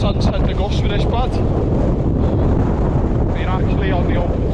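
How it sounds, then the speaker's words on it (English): Wind rushes steadily against the microphone on open Lake District fell tops, rising and easing slightly, while faint voices can be heard beneath it. "it's just coming and going, the wind."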